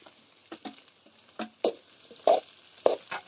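Pieces of tapioca (cassava) dropped into a frying pan with sautéed fennel seeds, giving a handful of short, close pattering sizzles and scrapes spaced apart, with no voices.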